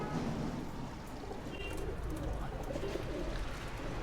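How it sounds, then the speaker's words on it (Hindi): Desi and Madrasi pigeons coo softly and continuously under a dense murmur of background noise, with several birds calling together at a moderate distance. "इसमें देसी कबूतर हैं"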